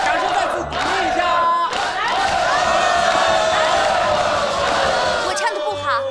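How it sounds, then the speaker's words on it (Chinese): A lively crowd at a gathering shouts and cheers together in loud, sustained bursts, with voices rising in unison. No distinct clapping stands out. "掌声再次鼓励一下"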